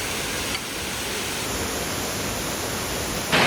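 Water rushes through a swollen stream in the Blue Mountains, a dense, steady roar of broadband noise that stays loud and unbroken throughout, with no voices.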